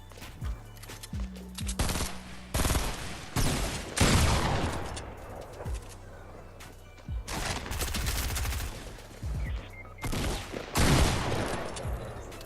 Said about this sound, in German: die schießen jetzt